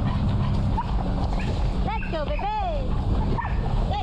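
Several dogs on an off-leash pack run in a rural mountain area, wearing tracking collars, give a few short barks and yips with a whimpering tone. The sounds are scattered and come through under steady talking and low background noise.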